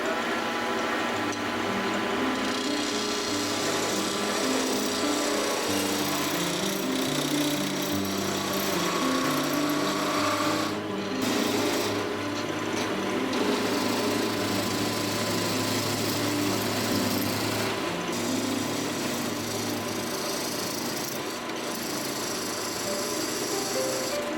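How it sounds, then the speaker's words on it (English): Brass stock spinning on a wood lathe under a hand-held chisel, giving a steady, loud mechanical whine with layered tonal hum and scraping that runs continuously with brief dips. "you're going to want to skew your chisel while cutting brass"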